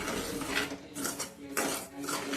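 Barnyard millet dry-roasting in a pan, a steady scraping and rattling of grains against metal with spoon clinks, close and continuous.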